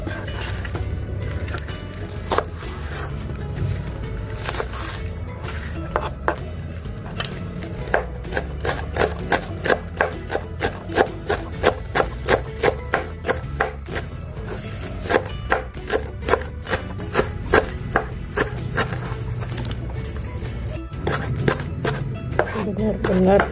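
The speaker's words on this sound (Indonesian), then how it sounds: "Selanjutnya untuk daun bawang juga sama ya, kita haluskan." Spring onions chopped finely with a knife on a board for tahu brontak, rapid rhythmic knocks in bursts that speed up into steady fast chopping, close and clear, with no talking over it.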